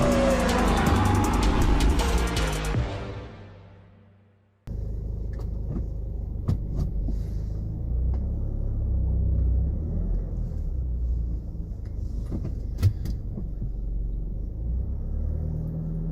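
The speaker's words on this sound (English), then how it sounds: "We're in the car today." Low steady rumble inside a moving car, close and continuous, with a few faint clicks and knocks. It follows a few seconds of louder unrelated sound that fades to a brief silence.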